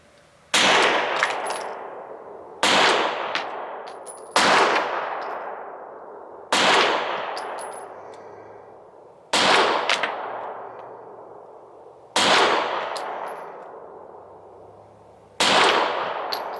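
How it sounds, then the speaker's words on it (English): Seven sharp SIG pistol shots at an outdoor range, aimed at a 100-yard target, fired at a slow, even pace about two seconds apart, each a loud crack with a lingering echoing decay. "I got a 10 rounds in the SIG. Let's see if I can hit that 100 yard."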